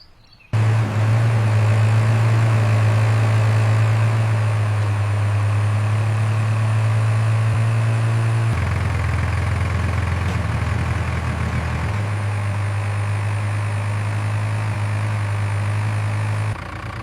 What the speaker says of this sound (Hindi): सर, वो देखो, कोई ट्रैक्टर वाला आ रहा है।